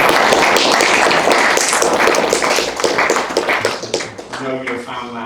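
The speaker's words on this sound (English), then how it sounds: "can we give you a huge round of applause" A large crowd of school students claps loudly and steadily in a school hall, then the applause thins out and a voice starts talking near the end.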